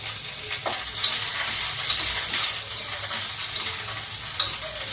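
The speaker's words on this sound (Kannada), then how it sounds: "ಬದನೆಕಾಯಿನ ಎಣ್ಣೆಯಲ್ಲಿ ಫ್ರೈ ಮಾಡ್ತೀವೋ" Eggplant stir-frying in oil for a North Karnataka-style stuffed brinjal dish, giving a steady, close sizzle with occasional stirring scrapes throughout and no talking.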